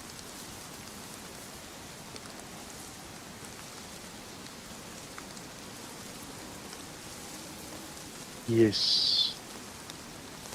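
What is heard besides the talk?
rain in DayZ video game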